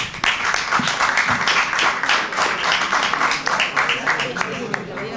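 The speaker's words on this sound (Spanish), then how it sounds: "Porque aplaudieron a la Fiscalía." Audience applause at a mock jury trial in a courtroom setting, a burst of many hands clapping that builds quickly and continues steadily, with voices mixed in underneath.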